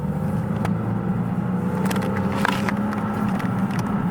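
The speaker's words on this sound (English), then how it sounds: "I'll do what we did with the Elantra, which is gas it through." A 2022 Hyundai Elantra N with dual-clutch transmission under full-throttle acceleration, its engine a steady loud drone heard from inside the cabin, with faint shift-like blips and no talking.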